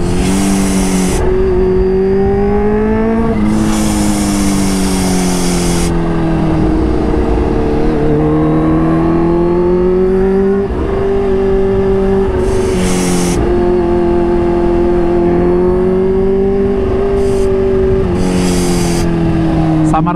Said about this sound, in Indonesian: Samar-samar sih suara supercharge itu kedengaran.